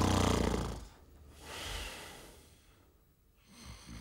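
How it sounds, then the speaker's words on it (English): A person snores in slow rhythmic cycles: a rough, rattling inhale, then quieter breathing before the next snore. It sounds close and moderately loud. "This pattern of snoring is referred to as primary or habitual snoring."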